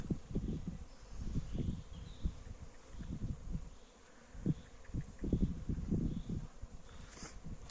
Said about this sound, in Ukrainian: Йде молода бджола на обліт.